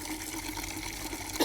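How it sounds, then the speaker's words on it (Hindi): Washed clothes are rinsed in clean water outdoors in rural Himachal, with steady splashing and trickling close by and a brief louder slosh near the end, and no talking. "पानी से साफ करूँगी, साफ पानी से।"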